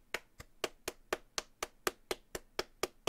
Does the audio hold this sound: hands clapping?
yes